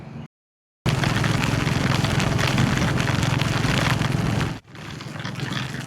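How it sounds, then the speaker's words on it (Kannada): Rain begins falling during a motorcycle ride on a highway, a loud steady hiss of rain and wind noise that fills most of the stretch, cutting out briefly near the start and dropping lower toward the end. "ಮಳೆ ಶುರುವಾಯಿತು ನೋಡಿ."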